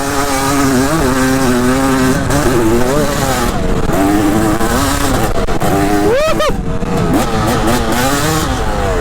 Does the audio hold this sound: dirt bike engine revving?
yes